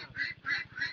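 Ducks on a farm with a flock of around 430 to 500 birds give three rhythmic quacks over a faint, steady low throb, moderately distant.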